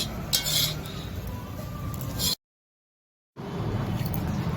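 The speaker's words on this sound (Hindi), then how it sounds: "अब हम इसे एक बर्तन में, खुले बर्तन में निकाल कर ठंडा कर लेंगे।" Roasted fenugreek seeds being tipped from a pan into an open vessel in a home kitchen, with metallic scraping, clinks and rattling, fairly close, before a brief gap of silence and more scraping.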